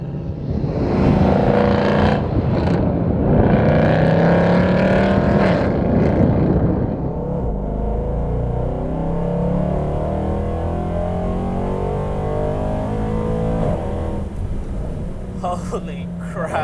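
A loud yellow car engine rumbles and revs hard close by, with someone talking over it at first before the deep, roaring exhaust note carries on alone, easing off near the end.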